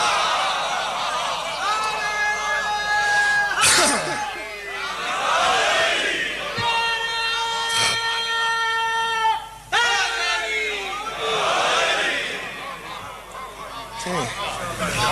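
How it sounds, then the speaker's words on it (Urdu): A crowd at a religious majlis gathering chants a slogan in loud unison. Several swelling, drawn-out calls are separated by short breaks. "جو نعرے میں شامل نہیں ہو رہے توہین سمجھتے ہیں نعرہ لگانا"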